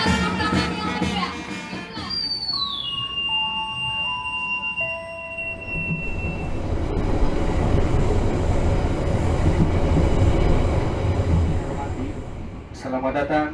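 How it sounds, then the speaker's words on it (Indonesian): A Jayabaya train rolls toward Malang station with a steady rumble and rail noise, joined early by a falling electronic tone, while a voice announces over it. "Sesaat lagi kereta api Jayabaya akan tiba di tujuan akhir stasiun Malang."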